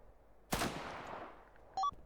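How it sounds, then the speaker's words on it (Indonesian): Single sharp gunshot from a GTA roleplay hostage-simulation game, loud and close, its echo decaying for about a second before a brief electronic beep-like tone. "soalnya ini tadi sudah ditembak Pak Sandra, mungkin bisa dilangsung open fire juga Pak."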